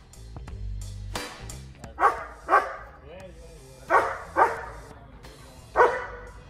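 A dog barks five times in sharp, close bursts spread over several seconds, with voices and some background noise before the barking starts.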